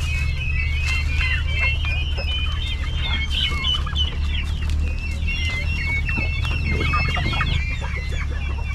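Cobra line chickens, the kind with bare featherless necks, cluck and chirp steadily in a rural farmyard over a low engine-like drone, the calls close and overlapping.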